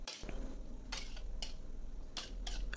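Metal utensil clinks and scrapes against a pan in a few sharp strokes over a steady background hiss, as cauliflower and sauce are stirred and tossed.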